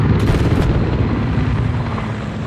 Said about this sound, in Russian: Обнаружена вражеская вертушка.